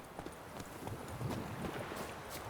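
Hooves of Roach, the horse in The Witcher 3, clip-clop in a steady trotting rhythm at close range, with no voices over them.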